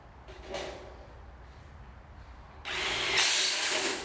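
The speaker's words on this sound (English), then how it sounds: "one of them was screwing on in the bolt" A power tool drives a bolt in, a close buzzing whir that starts with a short burst early on, then runs steadily for the final second and a half over faint background noise.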